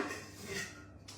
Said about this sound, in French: hop, je fais un peu de vaisselle